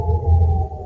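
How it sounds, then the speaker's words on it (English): A warning siren sounds in Tel Aviv after a Hezbollah missile strike, a brief, loud, steady wailing tone heard on its own. "warning sirens after Hezbollah fired its deepest strike yet"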